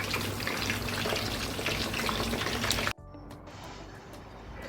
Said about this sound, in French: vous ajoutez de l'eau et des oignons et vous laissez cuire